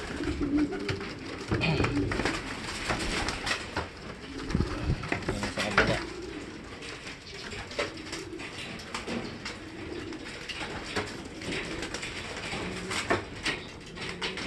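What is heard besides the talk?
birds cooing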